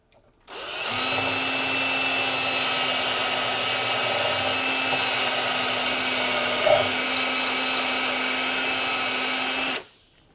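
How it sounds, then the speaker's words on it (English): A power drill with a slightly larger bit enlarges the connector hole in a Telecaster-style guitar body built from MJT and Fender parts, a loud steady whine that starts abruptly, holds for about nine seconds, then stops. "So I'm just gonna open up that connector hole with just a slightly larger drill bit."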